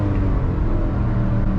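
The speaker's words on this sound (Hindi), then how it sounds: "नाइन्टी 95 तक जाएगी सेकंड गियर में।" A Hyundai i20 N-Line accelerates hard in second gear, a loud, steady engine and road roar filling the cabin without a break.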